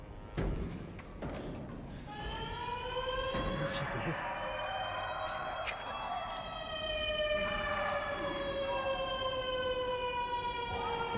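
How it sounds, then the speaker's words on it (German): Oil rig alarm siren in the Still Wakes The Deep game, a loud rising and falling wail with layered harmonic tones sounding continuously over about ten seconds after a few sharp knocks at the start. "Das war aber ein sehr kurzer Alarm."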